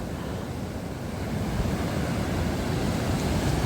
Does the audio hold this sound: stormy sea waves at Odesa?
yes